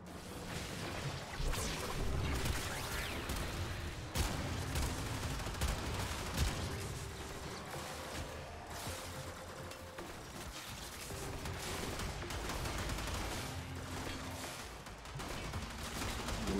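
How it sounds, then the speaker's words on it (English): Detron shotgun blasts in Warframe, a dense run of repeated loud gunfire bursts over steady in-game noise, with no talk. "Just shooting the Detron."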